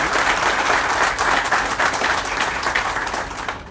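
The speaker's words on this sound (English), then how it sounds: "Give us a big round of applause for Kay." Audience at a Koch Foods ribbon cutting ceremony breaks into sustained, dense applause, many hands clapping steadily and fairly close, fading slightly toward the end.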